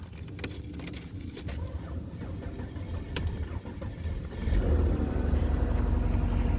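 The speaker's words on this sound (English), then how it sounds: "So the car starts." A wrecked Mercedes W220 S-Class cranks and fires up, clicks and handling noise giving way to a steady, close idling engine rumble that grows louder and settles into running.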